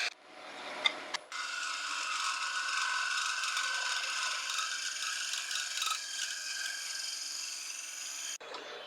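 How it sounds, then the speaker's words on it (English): Spindle gouge making pull cuts to hollow the inside of a wooden sphere box on a lathe, a steady continuous scraping hiss that runs for several seconds between brief pauses at the start and end. "I'm just going to use the spindle gouge doing pull cuts this time"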